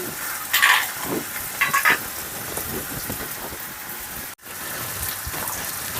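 Potatoes sizzle steadily in oil in a pan for a Bengali drumstick-flower and poppy-seed dish, a dense crackling hiss with a few louder stirring scrapes near the start and a brief dropout partway through; no one speaks.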